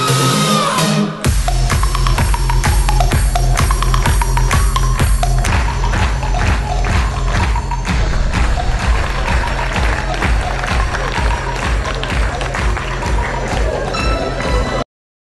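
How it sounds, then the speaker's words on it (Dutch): A large audience at a local sports awards evening claps loudly for a boys' handball club team, a dense, sustained wall of applause that runs without a break and is heard up close. "Uw applaus voor het Jongens B-team van handbalvereniging Tremeg."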